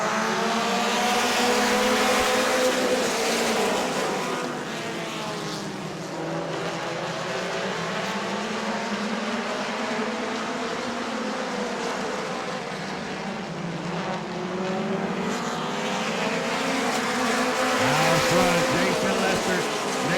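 Sprint cars at Auburndale racing under green in the Southern Sprint Car Shootout Series, a loud, continuous roar of several engines whose pitch rises and falls as cars sweep past, sustained throughout.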